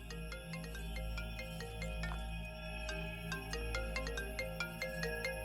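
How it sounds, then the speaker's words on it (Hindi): A mobile phone ringtone plays a bright, repeating electronic melody with quick, evenly spaced notes, ringing steadily without any voices. "किसका फोन बज रहा है यहाँ?"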